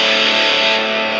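Electric guitar through the distortion channel of a Crate GX-60 combo amp, a dense, saturated sustained chord ringing steadily and loudly, with no talking.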